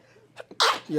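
A single sharp sneeze from allergies, preceded by a couple of quick intakes of breath, loud and close, with a brief voiced sound right after.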